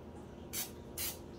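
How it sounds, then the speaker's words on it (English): Pam non-stick cooking spray hisses from the can in two short bursts, the first lasting about a quarter second and the second slightly longer, close and clear over a quiet background while grilling a tomahawk steak. "So we're going to get us some Pam non-stick cooking spray."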